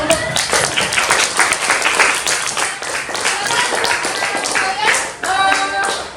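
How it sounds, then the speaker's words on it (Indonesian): A classroom of children claps together for several seconds in dense, steady applause, with a few voices audible over the clapping near the end. "Tepuk tangan."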